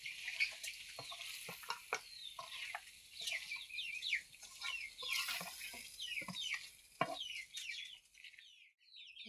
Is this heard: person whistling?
no